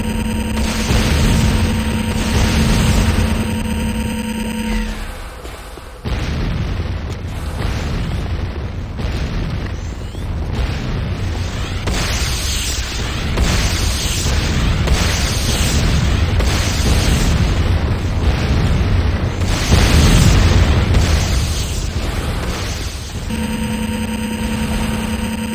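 Structures in Command & Conquer Renegade blow up in a long run of heavy, rumbling explosions and bursts, loud and continuous, with battle noise rolling underneath throughout.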